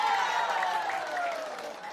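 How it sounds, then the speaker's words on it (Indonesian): Audience at a humorous Sundanese Islamic sermon breaking into applause on cue, a broad clapping wash that starts strong and slowly tapers, with some background voices. "Tepuk tangan atuh."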